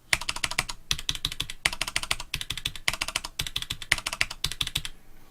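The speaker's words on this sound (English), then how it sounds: "now let's go see with the Corsair Strafe, Cherry MX Brown, regular keycaps, and no O-ring" Rapid typing on a Corsair Strafe keyboard with Cherry MX Brown switches, regular keycaps and no O-rings: bursts of close, crisp key clicks in quick rhythmic runs separated by brief pauses.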